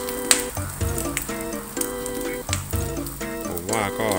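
Omelette with fermented pork sausage frying in a pan: a steady close sizzle and crackle runs throughout, with tonal background music playing over it and occasional sharp pops.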